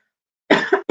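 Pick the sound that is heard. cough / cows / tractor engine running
cough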